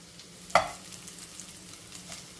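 A cabbage and potato curry fries quietly in a pan, with a soft low sizzle and one sharp clink of a spoon against the pan early on.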